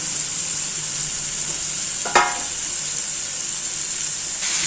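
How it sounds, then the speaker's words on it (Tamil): Goat blood pieces frying with turmeric in a pan while being stirred, a steady bright sizzle running throughout with one sharp scrape of the spoon midway, no talking. "நல்லா வறுபடட்டும்"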